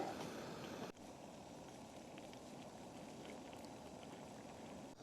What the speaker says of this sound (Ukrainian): і окропчик наш готовий